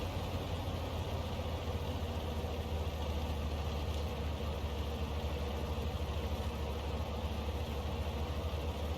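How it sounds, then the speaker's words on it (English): A sluggish tank without its top engine idles and runs in World of Tanks, a steady, low, droning rumble with a constant mechanical hum that holds evenly throughout. "This tank is very, very sluggish, mainly because it hasn't got the top engine."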